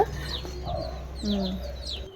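Fighting cocks kept in coops clucking in short, repeated calls from several birds close by, with a low steady hum beneath and no clear speech.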